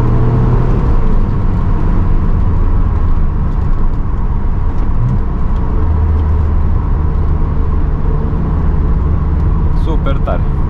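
A BMW Z3 3.0i roadster accelerating hard, its engine a steady loud drone mixed into continuous road traffic noise throughout.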